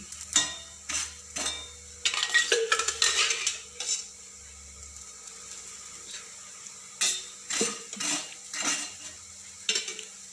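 Thalipeeth roasting in a pan, with clinks and scrapes of a spatula against metal in irregular bursts over a faint low sizzle, close by and with no talking.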